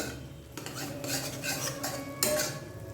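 A utensil clinks and scrapes against a bowl while an egg is stirred into mashed pumpkin, giving several distinct stirring strokes with close, moderately loud metallic knocks.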